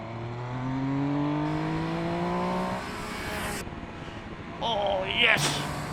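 An MV Agusta Superveloce motorcycle accelerates through the gears on a windy road, its engine note climbing then cutting off, followed by quieter riding with wind noise and a brief higher whine near the end.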